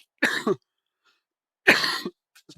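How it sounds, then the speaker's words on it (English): A person coughs twice, each a short harsh double burst, close and loud, separated by about a second of silence. "I'm starting to cough"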